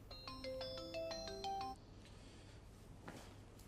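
A phone ringtone plays a repeating electronic melody, fairly loud and close, cutting off after about a second and a half into quiet room tone with a faint knock.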